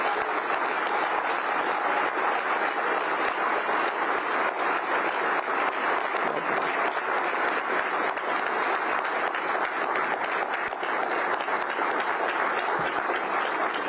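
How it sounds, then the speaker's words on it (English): Sustained applause from a large seated audience at a public service ceremony, a dense, even roar of clapping that holds steady and loud throughout with no speech over it. "I would ask that each one of you stand and give our incident commander a round of applause for his heroic"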